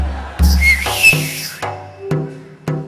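A person gives a loud, ringing traditional Marathi whistle at a harmonica program, with a shrill rising note followed by several sharp, short blasts spaced apart, close and alone.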